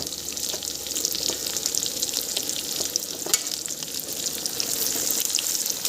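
Garlic and onion frying in a pan for greens, with a steady close sizzle and crackle throughout and faint stirring clinks, no voices.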